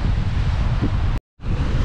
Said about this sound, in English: we've just turned the corner and it's got really breezy